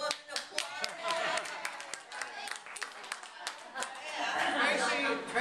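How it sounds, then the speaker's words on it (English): Guests at a 90th birthday celebration clap in brisk, scattered bursts, fairly close, mixed with chatter and talking voices throughout. "all us good women applaud."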